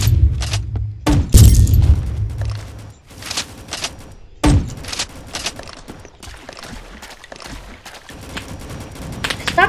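Gunfire in the Rolling Thunder video game, irregular sharp bangs and booming thuds in clusters, some heavy and close, amid rattling bursts and scattered clicks.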